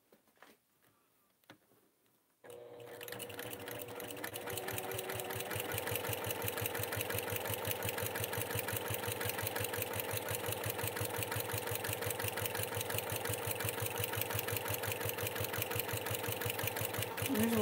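A sewing machine starts up after a quiet moment and stitches a test bag continuously at a fast, even, mechanical pulse, growing slightly louder and staying steady to the end.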